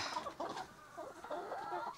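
Several Dominant CZ, Rhode Island Red and native chickens cluck and murmur continuously at close range on a farm in Cebu, overlapping in a busy, steady chatter.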